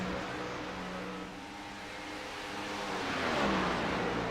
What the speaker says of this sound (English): Here's Edwards coming back out on fresh tires.